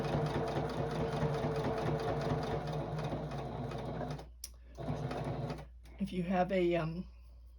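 Sewing machine stitching a star tabletopper quilt, a steady close mechanical whir running continuously for several seconds, stopping briefly twice, with a voice talking over the end.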